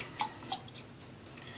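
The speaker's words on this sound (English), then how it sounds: "this is dry, pretty hard, and just going to throw a little bit of water on it" Water splashed from above onto a dry, hard birch tar shaving soap puck, giving a few quiet separate drips and splats spread over a second and a half.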